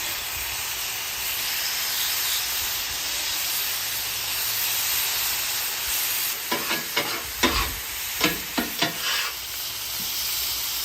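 Chicken and rice sizzle in oil on a hot flat-top griddle, a steady loud frying hiss with a burst of sharper crackles and spatters in the latter half as more oil goes on and the heat is turned up.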